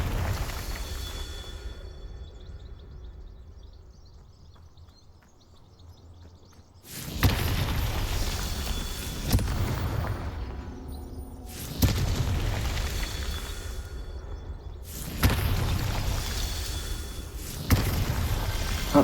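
Booming spell blasts from Confringo, a fire spell cast in Hogwarts Legacy, a game, land in three loud bursts separated by pauses, each followed by a rumbling tail. A quieter stretch with faint chirps comes before them.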